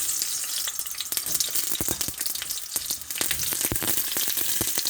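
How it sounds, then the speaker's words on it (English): Chunked onions fry with sirloin beef for a stew, giving a loud, close, continuous sizzle and crackle broken by sharp pops and spatters throughout. "then fry with the meat"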